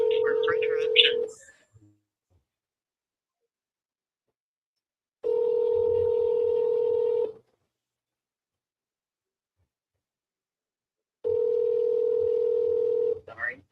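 A voicemail system's recording tone sounds three times, each a steady, clear electronic beep lasting about two seconds, separated by long stretches of silence.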